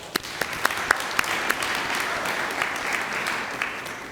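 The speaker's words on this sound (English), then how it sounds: "I want you to give yourselves a round of applause" A crowd at a museum groundbreaking ceremony in Newark applauds, steady moderate clapping with a few sharp, close individual claps standing out early on.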